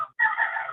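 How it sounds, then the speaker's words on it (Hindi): A rooster crows nearby, a short loud strained call breaking off briefly before a sustained crowing note, alone. "किसी के पास मुर्गा पुकार रहा"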